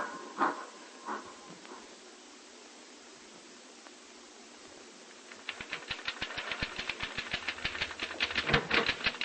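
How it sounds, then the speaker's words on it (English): Typewriter keys clatter in a quick rattling burst for a radio drama sound effect, loud and close with no talk, following a few faint isolated taps and a quiet stretch. "Say, you can really make that typewriter talk, can't you?"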